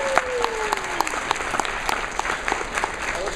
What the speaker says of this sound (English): Everybody give Samurai Dan another round of applause.